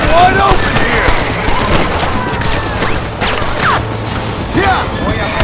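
Frantic gunfight in Red Dead Redemption set in Mexico, rapid revolver and rifle shots cracking over a constant roar of combat, with shouting voices mixed in throughout.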